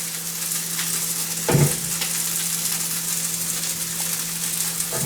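Garlic and onions sizzle in a pan for a Peruvian potato dish with huancaina sauce, a steady soft frying hiss with one brief stir or clink partway through, no voices.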